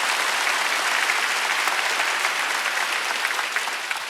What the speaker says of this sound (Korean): 박수 좀 세게 치시라.